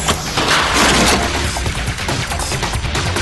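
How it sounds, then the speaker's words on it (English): A loud, sustained blast of impact noise as a debris impact cannon fires a board into a wall: a sharp crash with crackling debris that rings on for a few seconds, dense and close. "we have this cannon and we shoot boards through walls"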